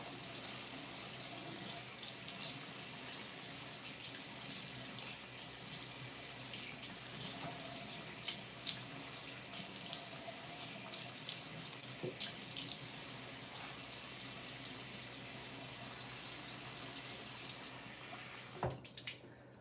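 Tap water runs steadily into a sink for washing off a cleansing balm during an evening skincare routine, a continuous close splashing hiss that stops abruptly near the end.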